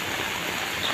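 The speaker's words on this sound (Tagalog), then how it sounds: "lakas ng ulan." Dense, steady hiss of heavy rain pouring down ahead of a typhoon in Silago, Southern Leyte, even and close with no other sounds.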